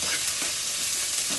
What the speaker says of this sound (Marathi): कांदा छान परतवून घेऊया